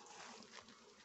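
Honey bees fly near a hive in a summer apiary, giving a faint, continuous buzzing drone heard alone over a short moment.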